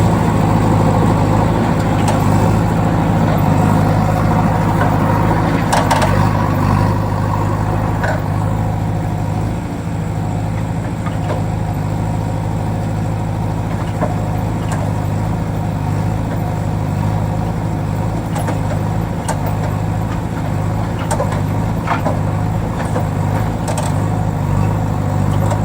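A toy JCB excavator gives off a continuous engine-like rumble, a loud, steady idling drone that runs unbroken, with faint clicks and handling noises scattered over it.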